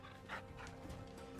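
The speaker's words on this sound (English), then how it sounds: "I always get the pet dog." A companion dog in the video game Final Fantasy 16 whimpers and yips briefly. The sound is soft and close, with a few short high cries.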